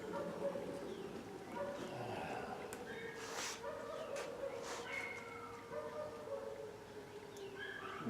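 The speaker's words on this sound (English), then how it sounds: "when they go off, it causes my dogs to howl." Dogs howl along with wailing weather sirens, a long, steady, droning tone that holds throughout at moderate distance, with a few sharper yips and bursts over it.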